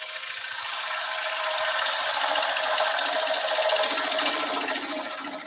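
A gouge cuts into a spinning wooden platter on a lathe with the bevel rubbing, a steady hissing scrape that swells and fades over a few seconds, close and without talk.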